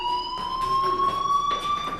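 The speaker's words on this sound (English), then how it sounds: "do you hear that fire alarm? That means you should be outside." A fire alarm rings in the video game Life Is Strange as one steady electronic tone with bright overtones. Its pitch creeps slowly upward, and it stays loud and unbroken from start to end.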